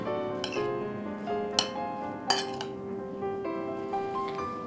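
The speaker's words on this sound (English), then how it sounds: "Mix all the ingredients well" A spoon stirs bean taco filling with tomatoes, oregano, coriander, sugar and salt in a bowl, giving a few close, bright clinks of metal on the dish over a soft, steady scraping.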